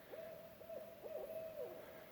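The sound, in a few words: owl hooting in woods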